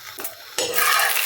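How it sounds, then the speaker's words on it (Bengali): Roti fries in a little oil in a pan. A short scrape comes first, then a close sizzle swells and holds steady to the end. "রুটিটা আমি ভেজে নিই।"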